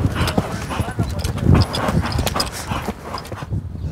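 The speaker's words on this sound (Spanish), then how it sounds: "Es una yegua española de muchísimo carácter, de mucho genio." A Spanish mare used for dancing sevillanas clip-clops with irregular hoof strikes close by, over a busy background that includes voices and what sound like dog noises.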